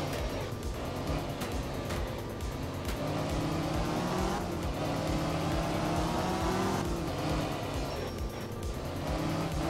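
Rally car engine from the video game Art of Rally, droning continuously and loudly throughout with shifting revs, gear changes and occasional tyre noise, no talk.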